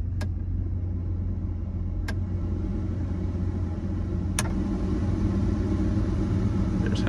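Ventilation fan of a 1989 Ford F-250 XLT running on low speed, heard at the vent as a steady, even whoosh with a low rumble underneath and a few faint sharp clicks.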